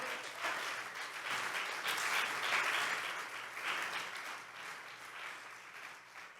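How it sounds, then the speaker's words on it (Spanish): A church congregation applauds steadily for several seconds, a dense, moderately distant wash of clapping that swells slightly and then tapers without any talk over it. "Dale un aplauso a Dios, por favor."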